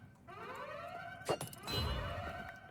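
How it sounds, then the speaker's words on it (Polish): An alarm siren going off in the Minecraft video game, a rising and falling electronic wail that repeats twice at moderate volume, broken by a brief sharp burst in the middle with no talking. "alarm został odpalony"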